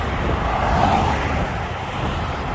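Cars rush past on a highway beside a wrecked car stopped on the shoulder, a loud continuous roar of traffic with a broad swell of passing vehicles and wind, no voices.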